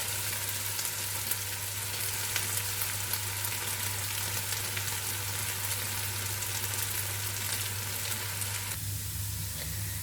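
Potatoes frying uncovered in a pan for a potato and egg dish, a steady close crackling sizzle throughout with a low hum, no talking.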